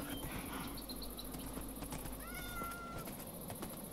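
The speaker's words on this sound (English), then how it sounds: "I heard a cat." A cat meows in the video game Minecraft, a few short rising calls heard clearly over steady background game ambience and soft noise, with no talking.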